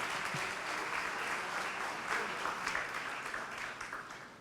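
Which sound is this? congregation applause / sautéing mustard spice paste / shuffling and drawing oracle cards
congregation applause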